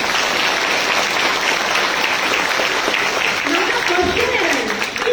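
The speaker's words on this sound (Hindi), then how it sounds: "तो इस बात पे जोरदार तालियां नहीं होनी चाहिए?" Hearty applause from a large audience at a university opening ceremony, a thick continuous wash of clapping at full volume, with a voice starting to speak over it near the end.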